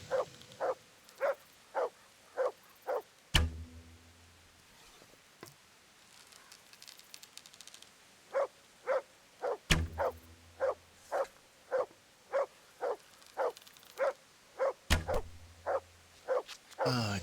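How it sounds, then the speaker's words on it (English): Repeated, evenly paced barking from a dog in Kingdom Come: Deliverance, in two long runs separated by a quiet gap, with three sharp bow-shot snaps cutting in along the way. "What are you barking at, dog?"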